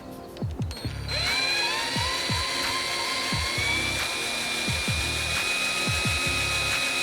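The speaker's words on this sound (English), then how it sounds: "we can go in with the first drill bit and then the second drill bit" A power drill with a small 2 mm bit whirs steadily up to speed and keeps running for several seconds, close by, its pitch holding nearly level while drilling a pilot hole.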